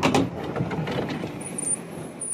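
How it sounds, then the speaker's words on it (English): A workshop door in an unheated building being pulled shut, a dull sliding rumble with a thud at the start, then a steady low scraping noise, close by and alone. "I'm going to close this door"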